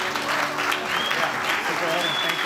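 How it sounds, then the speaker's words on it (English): Audience applause at a benefit gala welcoming two honorees, a short burst of steady clapping with faint voices and crowd murmur underneath. "Please give them a round of applause."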